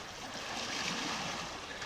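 A strong river current rushes past nearby in a steady broadband wash, loud and continuous for the brief moment, with no talking.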